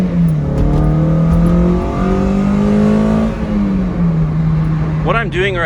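Toyota MR2 Spyder pulling from a standstill at wide open throttle, a loud steady engine drone climbing in pitch through the gears, with a brief shift dip and rising whine near the end, heard from inside the car.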